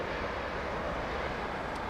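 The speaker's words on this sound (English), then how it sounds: "Kenyan Dreamliner going out, leaving his mate here again." A Kenya Airways Boeing 787 Dreamliner departs Heathrow Airport, its engines a steady broad roar that fills the air at a moderate distance, with no talk.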